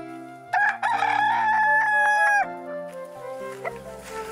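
A rooster on a farm crows one loud, close, drawn-out call while chickens cluck softly around it and carry on afterward.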